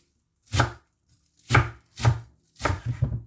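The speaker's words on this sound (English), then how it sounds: "So I'm just going to finally chop this and then get this added into the mix" Knife chopping parsley on a cutting board for a vegetable slaw: four separate bursts of close, crisp chops, the last a quick run of several strikes, with short silent gaps between them.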